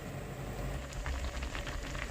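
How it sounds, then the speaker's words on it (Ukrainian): Soft, steady bubbling of a pot of apricots simmering in syrup on the stove, a quiet continuous burble with small pops. "Ось так кипить, скільки нам потрібно."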